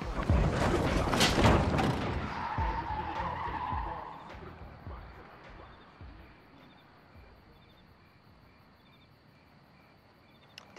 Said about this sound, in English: Did Doogie Howser just steal my fucking car?